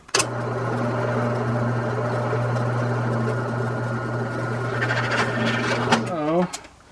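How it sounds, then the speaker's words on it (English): A power drill bores through a custom spare belt holder for a RZR, a steady loud whine held for about six seconds before winding down, with no talk over it. "So I'm going to go ahead and drill it out in the center and do the same thing on the other side."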